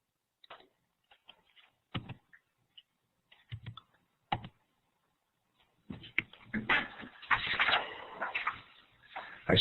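Computer keyboard keys clicked during a webinar, first scattered single taps separated by silence, then a denser burst of rapid clattering keystrokes toward the end, close and moderately quiet.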